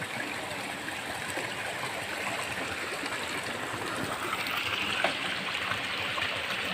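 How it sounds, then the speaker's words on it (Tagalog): Steady rushing and gurgling of the Saluysoy river flowing over rocks, an even and fairly soft wash of water that runs throughout with no talk. "andito na kami sa ilog"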